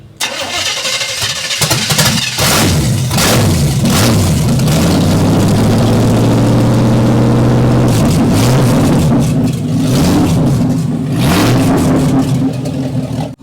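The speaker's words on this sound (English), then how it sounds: "So you notice how it's idling really good." An abandoned 1962 Cadillac DeVille, revived after over 30 years parked, idles loudly and close by, with blips of revving and uneven rises in pitch that settle back to a steady idle.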